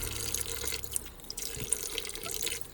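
Nail art implements are scrubbed with soap under a running tap, giving a close, steady splash of flowing water with small drips and scrubbing textures, and no voices.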